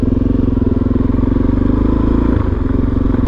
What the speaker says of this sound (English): The DRZ is such a great bike for exploring.